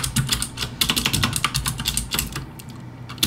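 Rapid typing on a computer keyboard while entering CSS code, a dense run of crisp key clicks with an irregular rhythm, close and fairly loud, with no talking.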